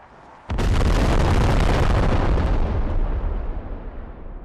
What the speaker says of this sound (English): with it comes airstrikes, artillery barrages, and UAVs